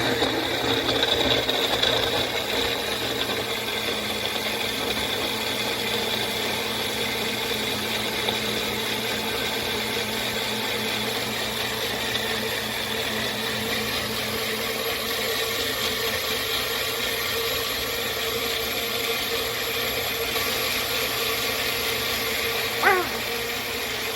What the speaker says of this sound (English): And let's get blending.